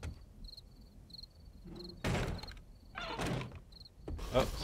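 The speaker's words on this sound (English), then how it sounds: "Oh, sounds like there's somebody at the door." Someone beats on the front door of a house in the 7 Days to Die video game. Three heavy, booming bangs land about a second apart, and faint repeating chirps sound in the background between them.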